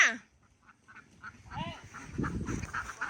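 Domestic laying ducks quack repeatedly at close range, a few sharp calls then a busier cluster of overlapping quacks, with faint background voices.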